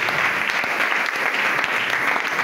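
A congregation claps at a Sunday church service in Barumbu, giving steady, dense applause that fills the whole moment at full strength without pausing.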